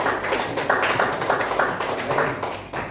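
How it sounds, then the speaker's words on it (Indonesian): Applause from a classroom of students for a group that has just finished its presentation, a dense, steady patter of many hands clapping together for about three seconds at moderate loudness. "beri tepuk tangan untuk kelompok 2"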